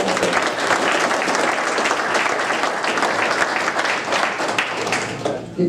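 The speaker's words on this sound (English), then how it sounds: "a round of applause for those guys" Sustained applause from a crowd at an aircraft builders' dinner, loud and even throughout, with many hands clapping at once and no one speaking over it.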